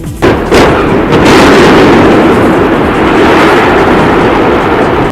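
A massive, sustained rumbling roar of a demolition blast at a power plant, starting with a sharp burst and rolling on as a loud continuous thunder of the boiler building and two tall chimneys collapsing.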